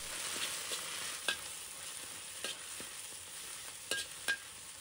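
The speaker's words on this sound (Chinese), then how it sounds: "加入适量生抽和蚝油，简单翻炒几下，让香味充分融合" Minced garlic stir-fries with soy sauce and oyster sauce in a pan, giving a soft, steady sizzle with a few sharp spatula clicks against the wok. It is quiet throughout, with no voices.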